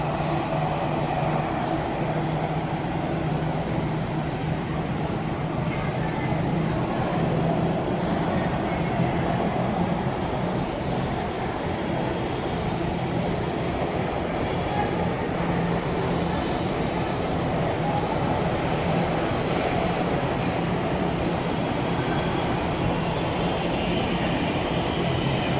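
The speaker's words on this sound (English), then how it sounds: "This flight has just landed. It's now taxiing towards the terminal." An Air India passenger jet taxis toward the terminal after landing at Chennai, with a steady, loud engine roar and rumble that holds evenly for the whole stretch and has no voices over it.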